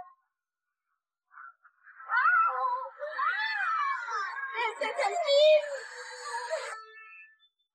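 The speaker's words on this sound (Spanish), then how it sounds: "El gato del papá de Bulma." A cartoon cat from a Dragon Ball film lets out a long, wavering meow and caterwaul, loud and up close, rising and falling for several seconds after a short quiet start.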